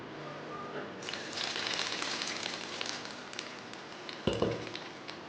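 A hot tempering of urad dal and curry leaves poured into a roadside-style spicy chutney, heard as a brief sputtering sizzle and crackle with a sharp splash near the end.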